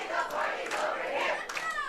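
High school football crowd at West Side vs Marsh Valley swelling into a loud, sustained roar and chant from the stands, dense and continuous throughout with no pauses.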